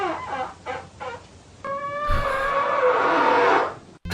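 A person mimics a duck with a few short nasal quacks, then one long, drawn-out honking call that ends abruptly.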